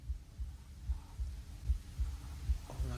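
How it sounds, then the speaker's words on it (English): A heartbeat sound effect thumps in a steady low double-beat rhythm, soft and muffled, over a faint hum. "Oh, not the heartbeat."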